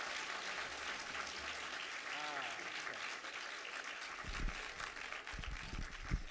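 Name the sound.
audience applause for the speaker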